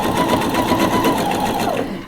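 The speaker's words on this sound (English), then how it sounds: "I'm just going to use the straight stitch because this is what the machine is set." Sewing machine running steadily in straight stitch over lace for lingerie, a fast continuous whirring hum close by, no pauses, easing off slightly at the very end.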